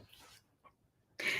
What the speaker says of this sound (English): I heard breathing behind me and I was like, maybe it's a spirit. It's the dog.